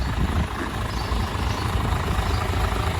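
A large Isuzu 6HK1 diesel truck engine idles steadily nearby with a low, rumbling chug, continuous and even throughout.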